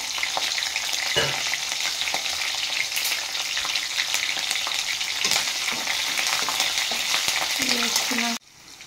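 Garlic, green chilies and dried red chilies frying in oil for a lentil dish, a loud continuous sizzle with scattered crackles and spoon scrapes, cutting off abruptly near the end.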